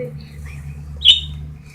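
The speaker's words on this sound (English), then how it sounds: "These are birds." Pet birds chirping indoors: a few soft, brief tweets over a low background hum, with one brighter, sharper chirp near the end.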